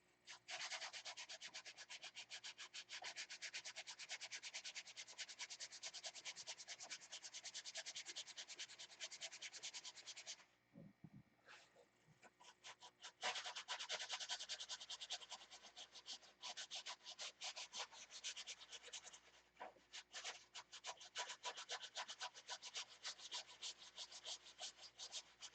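Hand sanding of a workpiece, heard close up as continuous rapid scratchy rubbing strokes, with a brief pause near the middle before the steady rasping resumes.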